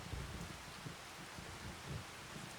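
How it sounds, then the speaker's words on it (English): Steady rain falling outside a farm truck in Ray County, Missouri, a dense even hiss with low rumbling patter, heard from inside the cab with no talking. "I'm gonna eat my sandwich and kind of wait out the rain."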